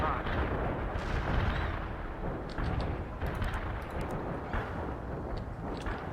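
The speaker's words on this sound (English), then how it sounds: "We got that infantry in our barrage." Artillery barrage in the real-time strategy game World in Conflict, a continuous heavy rumble of repeated booms and explosions, dense and steady, with faint crackling bursts on top.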